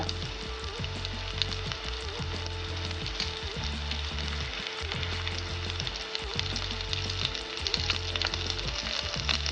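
Onion and curry leaves sizzle steadily as they fry in a pan for a Kerala-style pearl spot fish curry, with occasional stirring scrapes over a dense, continuous crackle and no voices.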